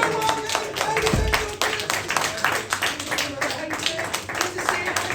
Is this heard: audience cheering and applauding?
yes